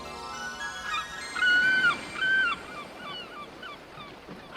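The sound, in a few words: seagulls calling in anime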